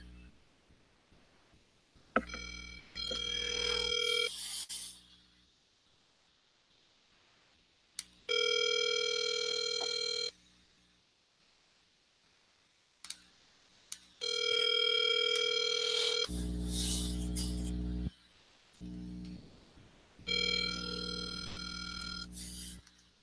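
Outgoing telephone call ringing a line, repeated long ringback tones separated by silent gaps, steady and clear through the handset, with no one speaking.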